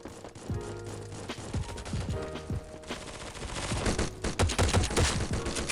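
Rapid gunfire bursts in the shooter game Forward Assault during a gun game match, loud sharp shots crackling in quick succession and building toward the end, with no talking.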